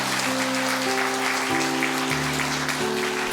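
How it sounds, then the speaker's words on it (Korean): A church congregation claps steadily in welcome for first-time visitors during a Sunday service. The sound is a continuous wash of hand claps, with sustained keyboard chords held underneath throughout. "축복의 박수 한번 부탁하겠습니다"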